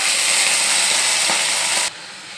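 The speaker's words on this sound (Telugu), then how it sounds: "నూనె కాగుతుంది కదా నూనెలో ఇప్పుడు మనం క్యాబేజీ వేసుకోవాలి వేసుకొని మగ్గించుకోవాలి" Cabbage hits hot oil in a pan and sizzles loudly with a steady, dense hiss, then the frying drops abruptly to a quieter simmer near the end.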